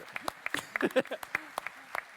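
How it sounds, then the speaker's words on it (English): Scattered, sparse hand claps from a small group at a conference panel, irregular and uneven, with some voices murmuring underneath. "we can clap"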